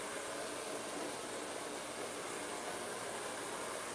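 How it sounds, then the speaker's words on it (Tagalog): Hair dryer blowing in a hair salon, a faint, steady airy hiss that stays constant throughout with no talk. "Medyo maingay, may nag-blower kasi tapos na itong isang customer, may isa pa doon."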